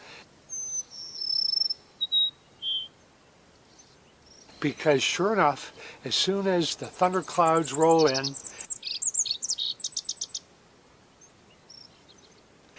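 Short high Cassin's sparrow chirps and trills at the start and end, with someone talking in the middle of the clip.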